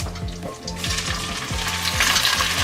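Beans hit a hot pan after the burner is switched off and sizzle loudly up close, with steady frying crackle and rhythmic stirring scrapes, no talking.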